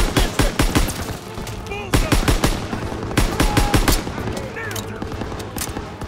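A German MG in a World War II battle at Hill 493 in Call of Duty: WWII rattles off rapid bursts of machine-gun fire, several sharp volleys with brief gaps between them, while soldiers shout over the shooting.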